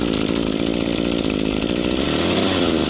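A free curbside Echo SHC-225S hedge trimmer's small two-stroke engine runs steadily and loud throughout, a continuous buzzing drone that settles slightly lower toward the end.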